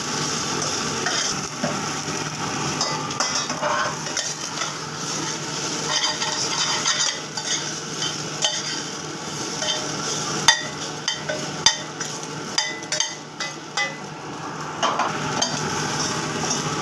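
Hilsa fish roe frying in oil with salt and turmeric, a continuous close sizzle broken by scattered clinks and scrapes of a utensil against the pan, no voices.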